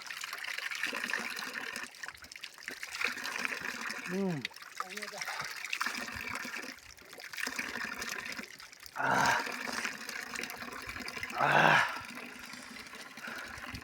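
Cold Himalayan water runs steadily in a Sherpa village, a close continuous trickle and gush beneath people talking, with louder splashing bursts partway through.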